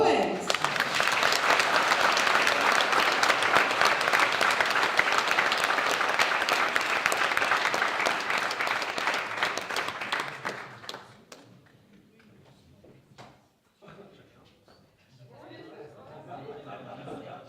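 A conference audience applauds a woman candidate, number 18, with loud, dense, sustained clapping for about ten seconds that then fades into scattered claps and quiet room noise.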